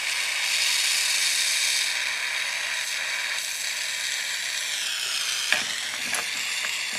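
A neutral torch flame roars with a steady, loud hiss while soldering the ferrule of a tool handle, with a few faint metallic clicks and taps near the end.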